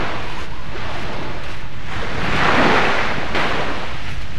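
Sea waves wash onto a seashore in a steady, broad roar, with a louder surge swelling midway and wind buffeting the microphone throughout; no one speaks.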